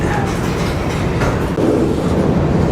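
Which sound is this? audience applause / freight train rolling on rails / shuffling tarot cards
freight train rolling on rails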